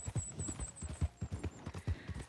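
A horse gallops in the video game Red Dead Redemption 2, its hooves pounding in a steady, rhythmic clip-clop of close, punchy thuds over a low background hum.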